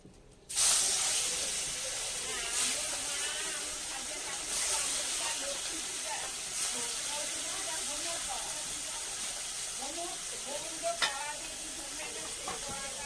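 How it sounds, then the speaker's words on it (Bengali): Fish drops into hot oil in a pan with a sudden loud hiss, then fries steadily in a close, continuous sizzle and crackle for the rest of the time. "মাছ ভাজতে বসাচ্ছি"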